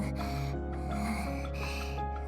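A girl breathes heavily in a visual novel game, her quick gasping, snorting breaths sounding close over a steady bed of background music.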